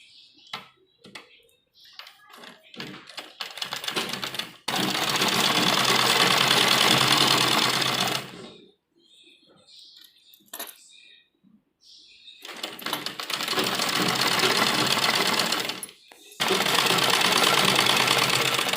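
A sewing machine stitches an embroidered sleeve to its lining in two long, loud, steady bursts of rapid whirring, with short handling taps and pauses before and between the runs.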